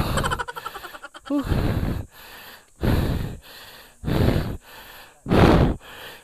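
Heavy, labored panting close to the microphone: long rhythmic breaths in and out, repeated several times with loud gasps.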